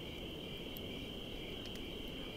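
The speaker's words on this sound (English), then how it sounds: "Maybe not everyone can hear the crickets." Crickets chirp in a continuous, steady high trill that fills the background at moderate level, with a low rumble of ambient noise underneath and no voices.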